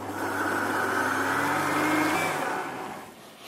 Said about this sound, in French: on le mixe très finement